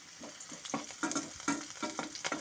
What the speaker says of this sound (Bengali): এখন আমি আঁচটাকে মিডিয়ামে রেখে রসুন আদা লঙ্কাটাকে একটু ভাজা ভাজা করে নেব।